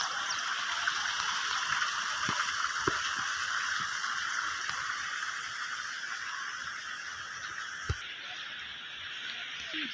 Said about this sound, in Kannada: ನೋಡಿ ನೀರಿನ ಶಬ್ದ ಕೇಳ್ತಾ ಇದೆ